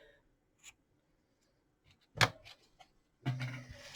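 Scissors snip through curly ribbon after it is tied into a knot on a snowman gift box: a few sharp, brief cuts, then a louder rustle near the end, close and otherwise quiet.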